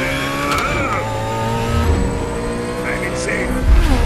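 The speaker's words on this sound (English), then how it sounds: "I'm going to run him over with my car!" A cartoon car engine revs hard and then speeds off, producing a loud, sustained whining drone with rising pitch. Voices are heard over the engine.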